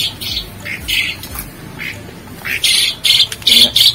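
A pet starling squawks at feeding time with repeated harsh, bright calls in short bursts, coming close and growing more insistent toward the end.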